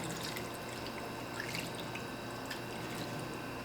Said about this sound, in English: Pour some of this juice in here.